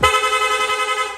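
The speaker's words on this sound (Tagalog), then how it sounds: "Nag-install din tayo ng rapid horn." A rapid electric horn fitted to a Honda Click V3 scooter gives one loud, steady, buzzing blast held for about a second, close by and alone.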